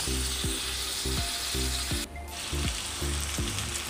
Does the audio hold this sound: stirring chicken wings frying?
yes